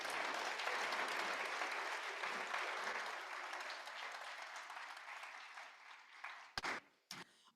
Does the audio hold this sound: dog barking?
no